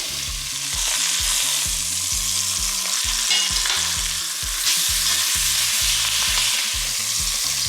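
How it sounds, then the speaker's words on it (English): Chicken searing skin side down in hot oil in a pan for turmeric soup, giving a loud, dense, continuous sizzle up close with faint music-like tones underneath. "And we're going to sear them in the hot oil. We're gonna put them in the pan, skin side down first."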